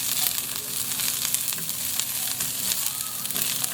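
Onions sautéing in a pan for Filipino adobo give a steady, close sizzle and crackle with faint scraping, continuous throughout with no talking.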